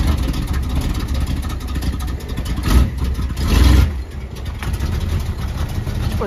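A 1968 Chevy Camaro engine idling with a rough, loud rumble, rising in two short revs before settling back, with a voice talking over it.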